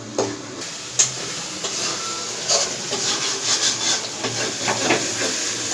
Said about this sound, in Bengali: যতক্ষণ একটু টান টান না আসবে ততক্ষণ এটা নাড়তে থাকবে